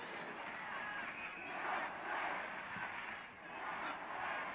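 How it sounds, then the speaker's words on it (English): A large football crowd at a 1970–71 Chelsea match roars in a dense, steady wall of voices. The jeering swells and dips slightly but never stops. "the crowd do not like it"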